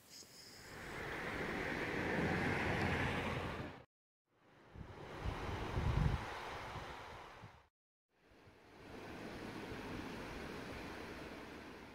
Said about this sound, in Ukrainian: Як бачите, річка Бистриця на в'їзді до міста Надвірна.